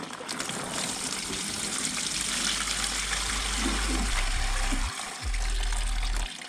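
Water sprays through a K&N air filter from the inside, a steady hissing rush with low gurgling that cuts out briefly and then resumes.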